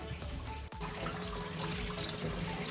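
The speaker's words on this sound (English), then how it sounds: "I have no idea if you can hear me with the water." Tap water runs steadily and fairly close at a reptile rescue, a continuous broadband rush with only a brief dip, heard alone without talk.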